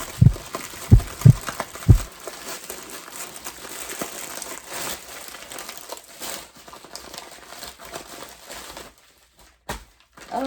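Several sharp crinkles and rustles of packaging at the start, then a quieter stretch of soft handling noise with faint crackles.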